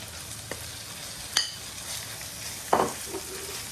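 Meat goes into browned onions in a pot and fries with a constant hiss, broken by a few sharp scrapes and knocks as it is stirred.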